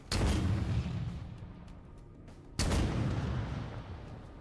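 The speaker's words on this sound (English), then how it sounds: "trying to get this explosion to look good, and now it works" Two loud booming explosions in a modded Halo 4 video game map, the first at the start and a second a few seconds later, each a sharp burst trailing into a rumbling decay.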